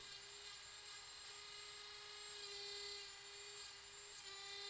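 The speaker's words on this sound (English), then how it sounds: "I also use a Dremel grinder to get into that internal curve" A high, steady whine of a small Dremel rotary grinding tool with a drum sanding wheel, shaping the internal curve of a mini knife, running continuously, fairly quiet, with slight pitch shifts as it works.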